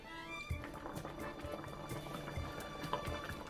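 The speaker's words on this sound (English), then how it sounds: "we're at a pretty good boil now" Garden-fresh tomato sauce bubbles in a pot at a good boil, faint soft plops and gurgles pop irregularly over a low background hum.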